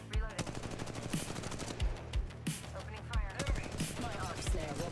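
Rapid bursts of automatic gunfire crackle through a mobile battle royale firefight in Apex Legends Mobile, with sharp repeated shots and thumping impacts layered densely over five seconds, loud and close.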